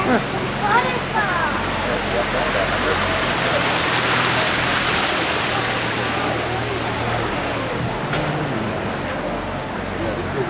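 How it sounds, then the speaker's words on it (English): Waterfall along the San Antonio Riverwalk at dusk, a steady broad rushing and splashing of water that fills the whole clip, with someone speaking over it. "I like the waterfall on our left."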